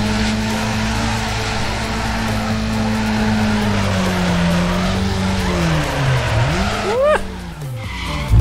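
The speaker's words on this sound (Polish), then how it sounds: "Wypasiony drift!" A Nissan drifts in Need for Speed Underground 2, its tires squealing loud and unbroken over a droning engine tone that bends and sweeps in pitch near the end.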